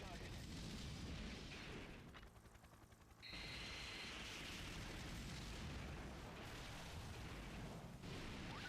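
Godzilla smashing generators in the Godzilla PS4 video game, with loud, continuous rumbling explosions and crashing destruction that dip briefly before resuming, under busy game audio.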